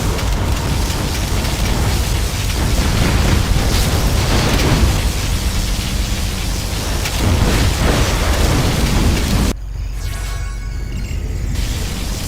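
A USA laser particle cannon strike in Command & Conquer Generals: a loud, continuous roaring blast with crackling bursts that cuts off abruptly, leaving a quieter rumbling tail.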